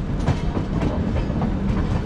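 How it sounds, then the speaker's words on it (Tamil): The Rajdhani Express runs on the rails at Howrah station, giving a steady low rumble with a rhythmic clickety-clack of wheels over the joints. It carries on evenly throughout with no voices. "இந்த பக்கம் நம்மளுக்கு ஒரு parallel departure with local trains"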